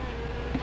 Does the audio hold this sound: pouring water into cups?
no